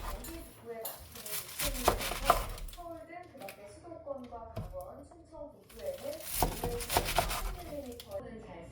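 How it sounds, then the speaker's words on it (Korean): Chives being chopped to 5 cm lengths on a board and three eggs being beaten: irregular knife taps and clattering utensil strikes, with bursts of quicker cutting, under a voice speaking throughout. "계란 3개를 풀어주고 부추를 5cm 길이로 썰고"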